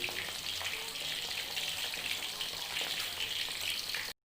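Thai fried pork laab sizzles and crackles steadily in hot oil in a pan, a loud, even hiss that continues unbroken before cutting off abruptly, with no talking over it.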